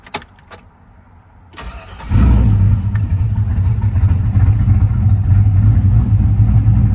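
A GM LS V8, 4.8, 5.3 or 6.0 litre, with a surging idle fault starts up after a few faint clicks and settles into a loud, steady, close idle rumble that holds evenly to the end.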